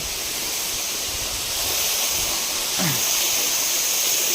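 Steady broadband rush of flowing water fills the whole clip, constant and fairly loud, with a brief faint chirp partway through.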